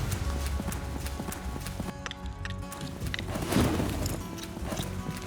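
A three-year-old filly loping in a cowboy competition arena, her hooves thudding in a steady rhythmic clip-clop at moderate distance over faint background ambience.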